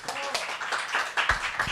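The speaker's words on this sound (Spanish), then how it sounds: "démosle un aplauso" Audience applause at a student literature research conference comes as scattered, uneven claps of moderate loudness, with a few sharper hand strikes standing out over a short burst.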